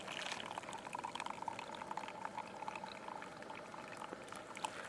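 Water is poured from a pot into a GSI mug at a High Uintas camp, a soft steady trickle and gurgle running for several seconds at low level.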